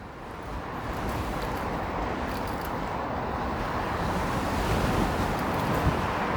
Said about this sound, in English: this wind is brutal